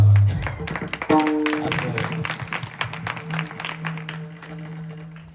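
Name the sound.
audience applauding at kirtan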